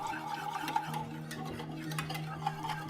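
A spoon or whisk stirs a thin cream sauce seasoned with grated nutmeg in a pan for a croque monsieur, giving soft, steady swirling with light ticks against the pan under a faint background hum.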